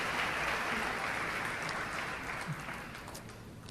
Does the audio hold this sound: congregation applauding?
yes